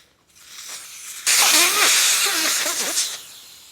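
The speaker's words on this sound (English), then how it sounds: "That'll release all the air." Air rushes out of a bicycle tyre valve after the valve core is unscrewed with a valve stem remover tool, a sudden loud steady hiss starting after a quiet moment, close by and alone, with faint rattling toward the end.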